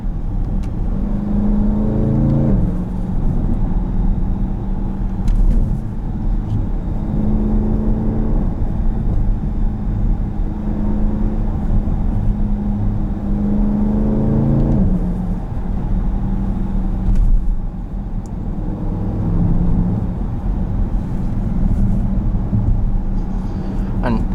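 A 2018 Dodge Durango SRT 392 engine drones loudly under heavy acceleration with a transmission kickdown, and its pitch climbs in repeated surges through the gears beneath steady talking from the driver.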